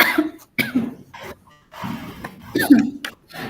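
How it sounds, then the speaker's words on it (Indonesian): A few short coughs break up quiet talking, close to the microphone, with brief pauses between bursts. "maaf ini Pak agak batuk."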